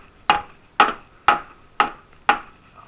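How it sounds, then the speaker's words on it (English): Dead blow hammer beating an axle out of a Noma snow blower sprocket: five sharp, evenly spaced blows about half a second apart, close and loud, with no talk. "If we hold the sprocket here and beat the axle out that way,"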